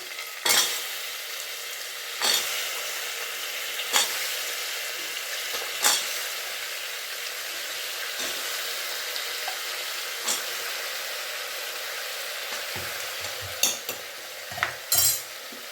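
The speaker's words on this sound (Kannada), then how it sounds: "ಇದು ಇಷ್ಟನ್ನು ಎಣ್ಣೆಯಲ್ಲಿ ಫ್ರೈ ಮಾಡ್ಕೊಂಬಿಡೋಣ." Eggplant and potato pieces frying in oil give a steady, even sizzle, with occasional sharp knocks of a stirring spoon against the pan and a cluster of clatters near the end.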